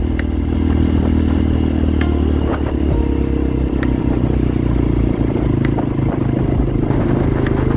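A CRW motorcycle climbs a steep uphill road in second gear near a mountain campsite, its engine droning loud and steady beneath rattling, clattering bumps and scrapes from the rough surface.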